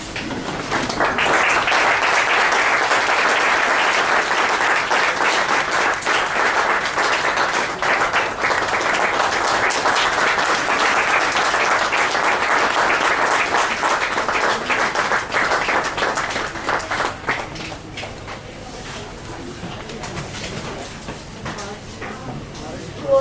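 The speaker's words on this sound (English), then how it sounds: "Request all of you to please stand and give a big round of applause." Audience applause at a book launch, a long, loud, sustained clapping from a standing crowd lasting about seventeen seconds, then tapering off into quieter room noise with faint movement.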